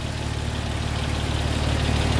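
A 480-horsepower 3.6-liter engine in a 2008 Porsche 911 Turbo Cabriolet with a six-speed idles steadily and close, a continuous low rumble with an even pulse and no talk over it.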